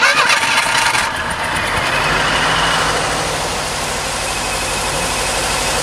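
A 1987 Ford Thunderbird engine turns over and settles into a steady, loud idle, its rough rumble continuing evenly with no talking.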